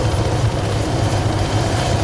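Helicopter flying in the military video game Arma 3, a steady low rotor and engine drone held constant throughout with no talk.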